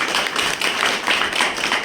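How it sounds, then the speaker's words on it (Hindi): Audience applause for Dr. Rahul Bhai at an Om Shanti centre gathering: a dense, steady wash of many hands clapping, moderately loud and continuous, with no voices on top. "एक बार तालियां डॉक्टर राहुल भाई के लिए भी।"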